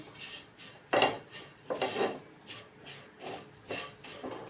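Dry whole spices, black pepper, coriander seeds, fennel and cumin, roasting over low heat in a pan, heard as intermittent scraping and rattling stirs against metal, fairly close and moderately quiet.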